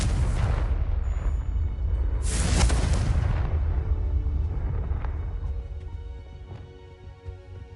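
A blasting spell explosion in the Hogwarts Legacy video game, a loud broadband boom and burst that swells early on and then slowly decays into a fading rumble with faint scattered ticks.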